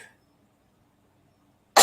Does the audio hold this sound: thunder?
no